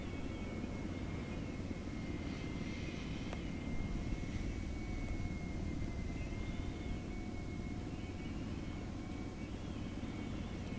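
A helicopter in the military simulation game Arma 3 drones steadily and loudly throughout, a constant engine and rotor roar with a faint high whine running on top and no talk over it.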